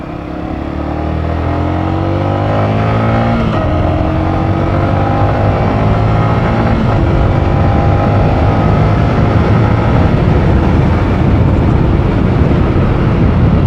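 Yamaha R15 motorcycle on a test ride, its engine droning loud and steady and close, with rising and falling pitch as it pulls through gear shifts, no talking.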